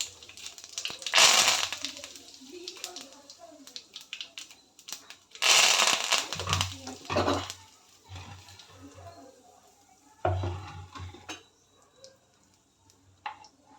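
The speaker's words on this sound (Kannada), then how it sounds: "ಸಾಸಿವೆ ಹಾಕ್ತೀನಿ ಜೀರಿಗೆ ಕರಿಬೇವು ಹಾಕ್ತೀನಿ" Mustard seeds, cumin and curry leaves dropped into hot oil, two sharp sizzling bursts that crackle and settle into sputtering pops, close and loud, with quiet stretches between.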